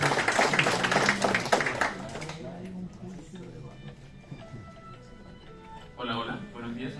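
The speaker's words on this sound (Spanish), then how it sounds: "recibámoslos con un aplauso" Audience applause welcoming speakers at a symposium on artificial intelligence in the arts, dense clapping for about two seconds that fades into room murmur and voices, with a brief burst of activity near the end.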